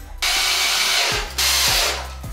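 A power drill with a Torx bit drives new screws, two close bursts of whirring motor each winding up and then slowing, separated by a brief pause, with no talking.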